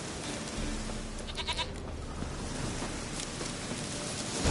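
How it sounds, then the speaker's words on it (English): A goat bleats a few times in The Witcher 3: Wild Hunt, fairly faint beneath a steady wash of outdoor ambience like wind or surf. "Here, goat."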